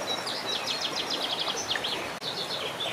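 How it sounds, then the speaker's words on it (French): Small birds sing in spring beside a gently rippling river, with quick, bright twittering phrases in bursts over a soft, steady wash of flowing water. No voices are heard. "On entend les oiseaux, la rivière qui frémit."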